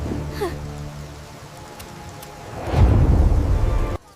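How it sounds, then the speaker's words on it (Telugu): Heavy rain and thunder as an animation sound effect: a low rumbling build that swells into a loud, dense downpour roar from midway, then cuts off abruptly at the end. "ఒకరోజు ఊరిని భారీ వర్షం ముంచెత్తింది."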